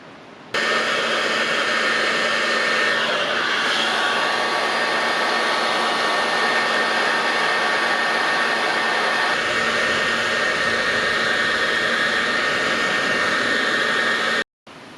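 A heat gun heats a solder joint joining two wires, blowing a loud, steady roar of hot air that runs without a break for about fourteen seconds before cutting off abruptly.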